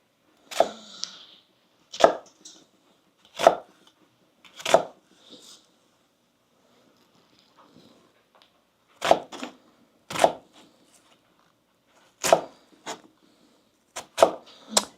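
A kitchen knife chopping an onion on a cutting board, with sharp isolated knocks in small clusters separated by pauses, close and clear with no talking.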